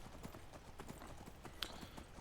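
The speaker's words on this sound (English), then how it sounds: "we got a horse so we can just climb the mountain this way" Horse hooves clip-clop in a steady, rapid galloping rhythm while riding up a mountain in the video game Skyrim, close and continuous against a faint background, with no talking.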